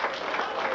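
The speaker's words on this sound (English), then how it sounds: "Another hand clap this morning." Church congregation at an Easter service at First Assembly of God in Buhl, Idaho, clapping together in a dense, sustained burst of applause that fills the room for under a second.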